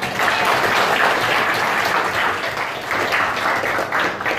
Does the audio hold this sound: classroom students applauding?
yes